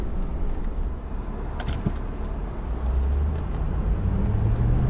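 A 2022 Ford truck with a 7.3L gas engine cruises down the road, giving a steady low engine hum and tire roar, with a few brief clicks and a slight rise in drone toward the end.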